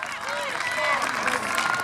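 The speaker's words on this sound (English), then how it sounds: "Right, big round of applause, guys." Audience applause rings out at a strongwoman event at the Peak District Highland Games: a steady, close wash of clapping and crowd noise lasting about two seconds, with voices talking over it.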